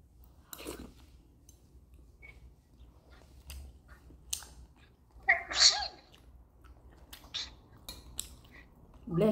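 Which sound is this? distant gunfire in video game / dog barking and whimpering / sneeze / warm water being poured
sneeze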